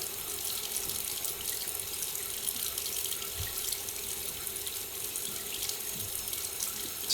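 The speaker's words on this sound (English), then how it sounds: "You hear that? The sink's on." Kitchen sink faucet running steadily to quick-thaw a salmon fillet, a constant close hiss of water streaming into the basin that holds unbroken throughout, with no talking.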